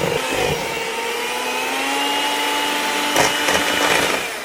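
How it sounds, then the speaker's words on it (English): An electric mixer whirs steadily on high speed through cookie dough for Persian saffron raisin cookies, a loud continuous motor drone with a few clattering knocks near the end. "And you go on high speed one last time to get all the goodness off of these mixer attachments"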